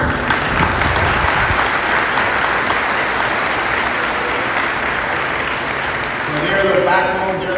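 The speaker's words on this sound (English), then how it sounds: "why don't we do a round of applause for the most important people here right now" Sustained audience applause for the families at a police recruit class graduation ceremony, a dense steady wash of clapping from a large crowd that holds throughout, with a few voices rising near the end.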